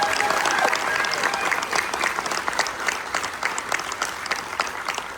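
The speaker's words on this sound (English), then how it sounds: "can we give everybody a huge round of applause, everybody?" A crowd applauds steadily at a military appreciation gathering aboard the Carnival Jubilee cruise ship, a dense wash of many hands clapping together that holds for the whole stretch, with faint voices mixed in and the sound easing slightly toward the end.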